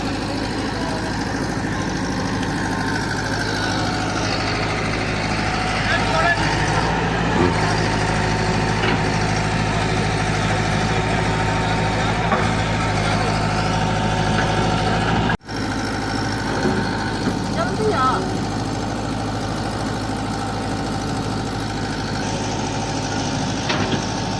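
A crane and tractor engines dig sand for a brick kiln, a loud steady diesel drone with heavy low rumble and knocking, continuous throughout with one brief dropout partway.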